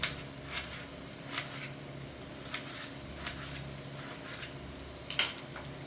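Tomatoes sizzling in hot oil for chicken biryani, a soft steady fry with occasional small pops and crackles, close and fairly quiet, no talking.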